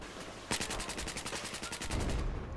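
Rapid automatic gunfire in Battlefield 4, a sustained burst of evenly spaced loud shots starting abruptly, with a heavier rumble of combat noise building underneath toward the end.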